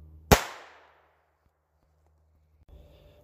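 .22 LR pistol fired once, a single sharp close crack with a short tail, followed by near-silence and faint handling noise.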